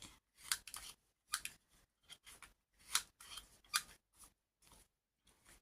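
Scissors or a corner-rounding cutter snipping rounded corners off playing cards, giving repeated sharp crisp cuts in an irregular rhythm with short silences between, close and fairly quiet.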